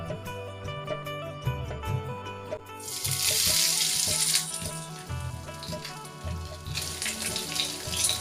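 Onions dropped into hot oil in a pot for a chicken yellow rice dish break into a loud, steady sizzle, with stirring and clinks of a utensil coming and going under the hiss, and no talking.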